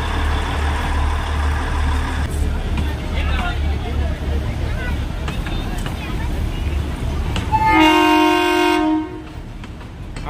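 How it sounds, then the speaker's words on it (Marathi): The small Matheran toy train rumbles along its narrow-gauge track at close range, with people talking nearby, then its horn gives a loud, sustained blast near the end. "ट्रेन एवढीशी छोटी टॉय ट्रेन चाललेली आहे टुवर्ड्स माथेरान"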